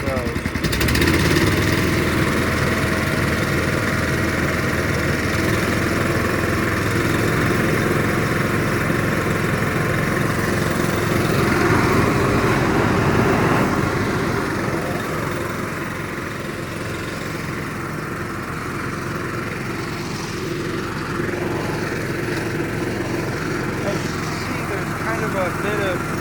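A Billy Goat F1302H walk-behind blower with a Honda engine runs at half throttle, making a loud, steady engine drone and air roar throughout that eases slightly partway through, while someone talks over it.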